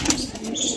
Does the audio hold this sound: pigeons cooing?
yes